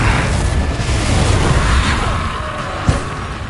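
A Confringo explosion spell in the Hogwarts Legacy video game on PS5, giving a loud, dense rumbling blast that fills the sound and ends with a sharp pop near the end.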